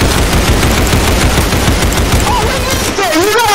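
Rapid M4 rifle fire in the Roblox game Criminality: loud, dense bursts of overlapping shots in quick succession, close and continuous, with a few thin whistling tones near the end.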